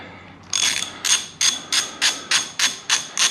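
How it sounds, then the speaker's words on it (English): Socket wrench ratcheting on a bolt at a Harley-Davidson brake lever, a steady series of about nine sharp metallic clicking bursts in quick rhythm, close and loud with no talk. "So I'm just gonna hit it with the socket."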